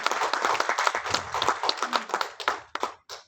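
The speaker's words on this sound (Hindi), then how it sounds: "जोरदार तालियों के साथ इस प्रोडक्ट का।" At a grand opening event for agricultural motor pumps in Patna, a crowd of dealers claps loudly for a product launch, the dense applause thinning into a few scattered claps before stopping.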